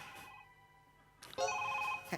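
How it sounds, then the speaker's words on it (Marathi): A phone rings in short electronic tones, a brief burst then a louder, sustained ring toward the end, fairly close. "पुतल्याचा फोन वाजतोय."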